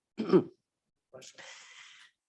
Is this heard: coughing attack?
yes